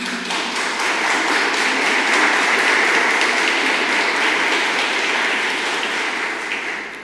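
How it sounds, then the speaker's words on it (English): Loud, dense applause from a conference audience after a speech on sustainability and innovation, a continuous wash of clapping that holds steady for several seconds before easing slightly. "Very loud applause here for your speech."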